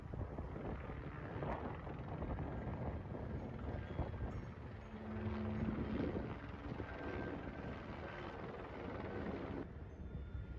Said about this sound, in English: this isn't a drone or a UAP, this is a police helicopter